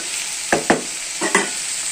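Steady hiss of chicken frying in a pan, with a few quick scraping stirs of a spoon, close up.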